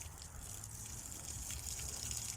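Water poured over the base of a black mulberry tree, a steady soft gushing and trickling that runs continuously under faint outdoor background noise, with no voices.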